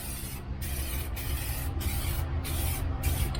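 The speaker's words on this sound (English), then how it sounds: "once this stuff dries onto whatever you're spraying like this, it's going to be there" An aerosol can of SEM interior dye for a Fox-body Mustang interior hisses in short bursts, five or six quick sprays in a row with brief gaps between them, close by.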